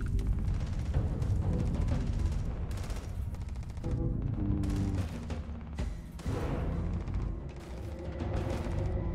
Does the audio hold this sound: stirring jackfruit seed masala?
no